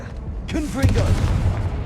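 A Confringo blasting spell explodes in the Hogwarts Legacy video game, a sudden boom midway followed by a rumbling, crackling burst that sits under a loud voice.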